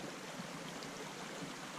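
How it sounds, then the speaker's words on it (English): A small stream flows beside a sandy lake trail, giving a steady, even wash of water that holds at the same level throughout, with no voices over it. "So I stopped here at this nice little stream to get some water up."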